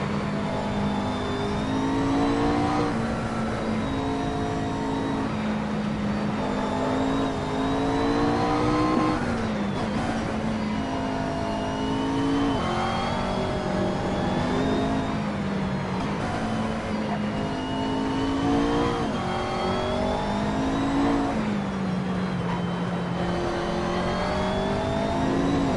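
A turbocharged Porsche engine in the racing game Assetto Corsa revs steadily and continuously, its pitch rising and falling through repeated gear changes over about twenty-five seconds of unbroken engine drone.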